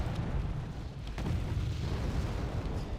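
Artillery fire in the Wargame: Red Dragon strategy game, including M108 guns, a dense continuous rumble of booms and blasts blending into a steady low roar, with no speech.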